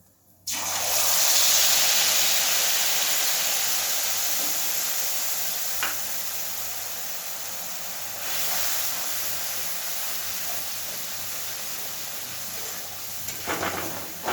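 Spice paste for doi paneer hits a hot pan with a sudden loud sizzle that settles into a steady hiss over low flame, with a few faint stirring clinks and no talk.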